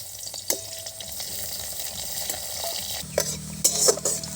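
Chopped onion fries in mustard oil with a continuous sizzle, broken by a few scraping stirs and a louder burst of frying toward the end.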